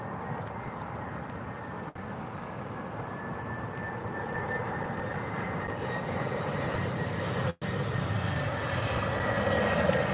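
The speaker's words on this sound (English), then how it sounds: "Should be hearing the 320 very shortly." Airbus A320 airliner engines at Gatwick Airport, a broad, steady jet roar that swells slightly as the aircraft passes, loud and sustained throughout with no talk.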